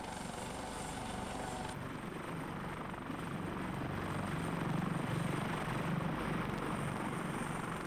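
A coast guard helicopter comes in to land on a ship at sea during a joint maritime exercise, its steady rotor thump and turbine whine loud and continuous, swelling slightly toward the end with no voices.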